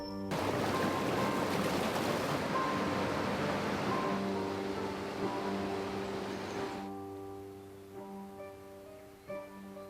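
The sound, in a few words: river water running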